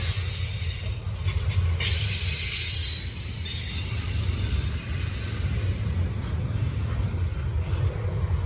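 A Norfolk Southern freight train rolls past at Gaffney, South Carolina, a loud steady rumble of railcars with shrill wheel squeal rising early on, continuing throughout.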